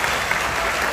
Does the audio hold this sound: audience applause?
yes